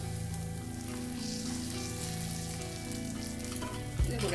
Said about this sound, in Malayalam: ഇത് കൂടെ നമുക്കൊന്ന് വേവിച്ചെടുക്കാം.